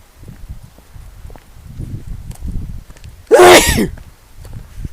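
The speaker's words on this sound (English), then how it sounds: "I got a sneeze on tape" A single sharp sneeze bursts out near the end, loud and close, over quiet shuffling and rustling movement.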